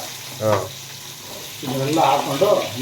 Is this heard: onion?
yes